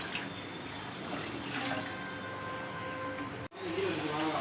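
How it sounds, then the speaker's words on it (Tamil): Two glasses of water poured into a cooking pot, a steady splashing pour running for several seconds, broken by a brief cut before the flow resumes. "அதில் வந்து 2 கிளாஸ் தண்ணி ஊற்றிக்கோங்க"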